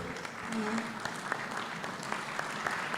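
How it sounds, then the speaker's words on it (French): Steady applause from a crowd, continuous claps filling the space with a few sharper claps standing out, fairly loud throughout. "Applaudissez encore, s'il vous plaît."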